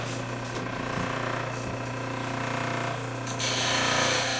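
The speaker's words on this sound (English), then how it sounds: "we're going to put another bevel on them. And we do it with the same wheel." A grinding wheel beveling the walls of a stone cabochon, producing a steady close rubbing grind over a constant motor hum that grows slightly louder and brighter near the end.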